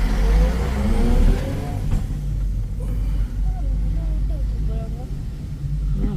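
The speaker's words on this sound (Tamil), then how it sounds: "லாரி எவ்வளோ லாரி வருது பார்த்தியா?" Heavy lorries rumble past one after another on a narrow forest road between Valparai and Athirappilly, a loud low engine drone with rising revs and a brief air-brake hiss, while people talk over it.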